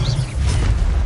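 A spell sound in Hogwarts Legacy, the Incendio fire spell, bursts out as a loud, dense low-frequency whoosh and rumble lasting about a second, without any speech.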